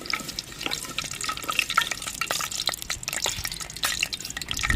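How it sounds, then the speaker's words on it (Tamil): Fenugreek seeds sizzle in hot oil in a clay pot on the stove, a close, steady crackle and spatter with scattered pops running throughout at moderate loudness. "எண்ணெய் சூடாயிருச்சுங்க, வெந்தயம் போட்டுக்கிறோம்."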